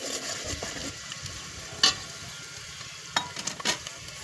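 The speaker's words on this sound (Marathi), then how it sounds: "आधी कांदा भाजायचा चांगला." Chopped onion frying in hot oil for a village-style mutton curry cooked over a wood-fired clay stove: a steady close crackling sizzle with a few sharper pops and stirring clicks near the end, no voices.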